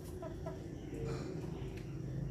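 An Aseel hen on a farm gives a few short, close clucks early on, over a steady low background rumble with no talking.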